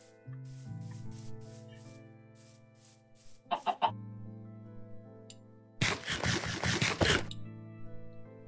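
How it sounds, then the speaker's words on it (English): A chicken clucks in a video game with creative flight, soft clucks over a steady droning music background, followed by a louder burst of scratchy rubbing noise. "Now I'm literally just waiting for a chicken to drop its egg."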